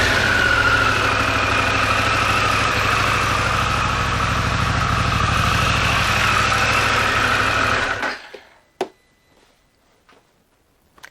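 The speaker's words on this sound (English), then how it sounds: "letting it idle for about 10 minutes, or at least until you get that engine temperature back up into the 210-ish degree range" A Harley-Davidson Pan America motorcycle engine idles steadily and loudly for about eight seconds, then cuts off, leaving near silence with a few faint clicks and taps.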